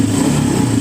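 A motorcycle engine revs briefly and loudly up close, a short sustained throaty drone during a fuel-injection scanner check.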